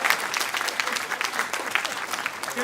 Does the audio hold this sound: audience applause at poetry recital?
yes